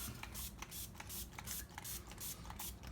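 Repeated short hissy spray bursts of rubbing alcohol from a spray bottle while making a bath bomb, about ten quick pumps in a steady rhythm, close and fairly loud with no talking.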